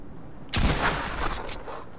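Hunting rifle gunfire in a multiplayer shooter video game: a loud, sudden blast that rings on with a rough, crackling tail for over a second, with no talk over it.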